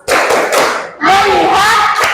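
A class of children claps through a rhythmic chant together, loud and close, with a burst of claps, a brief pause, then a longer stretch of clapping and chanting voices.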